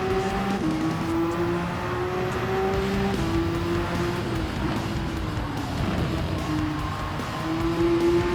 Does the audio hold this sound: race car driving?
yes